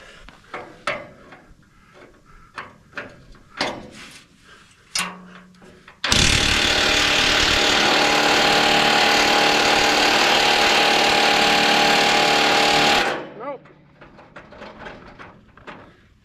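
A Dewalt DCF900 cordless impact wrench hammers on a nut of an old trailer axle in one long, loud, continuous rattling burst of about seven seconds, with quieter clicks and handling noises before and after.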